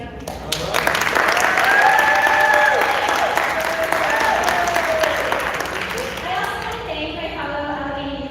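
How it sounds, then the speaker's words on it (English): Loud, close audience applause for student leaders at a school board candidate forum, sustained dense clapping with cheering voices and raised talk mixed in, tapering slightly near the end. "So can we give a big round of applause for these amazing young people?"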